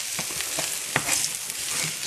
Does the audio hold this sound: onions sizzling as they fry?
yes